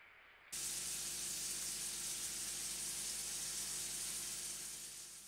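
Sliced onions and chopped garlic fry in oil until browned for a Bengali mutton liver curry. A loud, steady hiss and sizzle starts suddenly and keeps going, easing slightly toward the end, with no talking.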